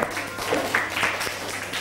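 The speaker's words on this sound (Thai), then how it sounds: "ปรบมือให้ปิยวัฒน์" Classroom applause for a student, a short burst of many hands clapping together at moderate loudness, with faint voices in the room.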